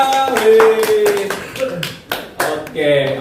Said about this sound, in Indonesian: Bagus, tepuk tangan semua.